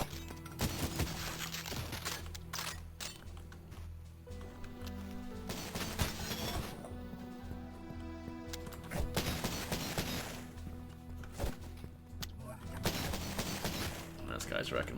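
Rapid gunfire in the first-person shooter Cultic, bursts of dense, loud shots and crashing impacts nearly continuous throughout, with brief lulls and music underneath.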